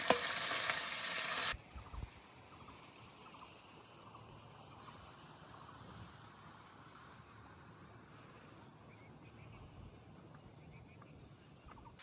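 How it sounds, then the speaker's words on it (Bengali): Fresh river fish, including small fry and a mirik, frying together in oil, a low steady sizzle and crackle running continuously after a brief loud burst at the start. "সব মাছগুলো একসঙ্গে ভেজে নেবো, তারপরে আলাদা আলাদা করে রান্না করবো।"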